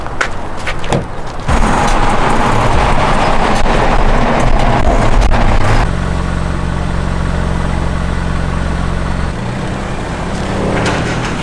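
A Toyota Camry drives home with a steady engine drone and road rumble, the tone shifting partway through as it settles into a constant cruise with no talking.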